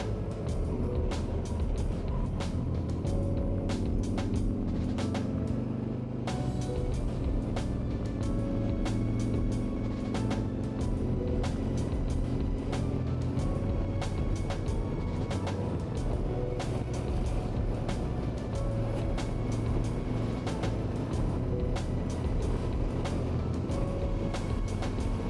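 A Harley-Davidson Freewheeler three-wheeled touring motorcycle cruises along a road with a steady, rumbling engine drone and road noise that persist throughout, under rushing wind and occasional rattles.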